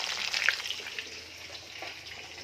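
Fish frying in a pan, a soft, steady sizzle and crackle with a few brighter pops, fairly quiet and close, with no talking over it.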